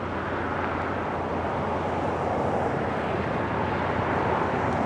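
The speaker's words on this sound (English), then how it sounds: "C-130's been doing some touch and goes." A C-130 military aircraft doing touch-and-goes at a naval air base, heard as a steady broadband engine roar, fairly distant and continuous with no voices.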